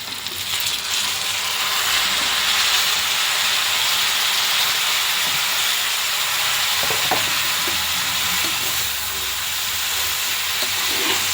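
Tomatoes and green chillies frying in plenty of oil in a pan for tomato chutney, a steady loud sizzle and hiss throughout with occasional stirring scrapes, no voices.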